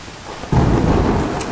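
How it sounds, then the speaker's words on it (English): A sudden low rumble of thunder breaks in over falling rain, rolling on loudly for about a second. "Oh yeah, thunderstorm."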